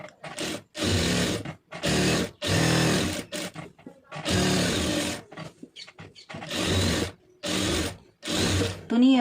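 A sewing machine stitches a lined blouse in bursts, several runs of fast mechanical whirring separated by short pauses, close and clear with no talk.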